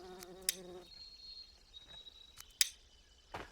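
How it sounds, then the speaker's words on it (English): Faint buzzing of flies drifts through a quiet game scene in Aska, with a few sharp clicks and soft background ambience around it. "You can hear flies buzzing around."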